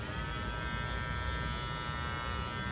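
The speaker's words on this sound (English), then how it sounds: "this is a good, powerful trimmer, and of course here's the sound" A Matsui brushless hair trimmer runs steadily close by, a constant high-pitched electric buzz with no pauses or changes across the whole stretch.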